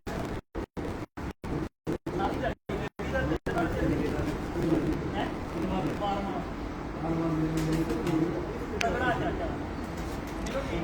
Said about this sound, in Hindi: मियां साहब के पास 5 कबूतर हैं।